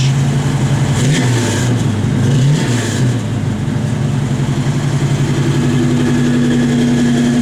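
A 1966 Chevrolet Nova SS engine running loud and close, a steady rumbling idle with a couple of quick blips of revving early on before settling back to an even drone.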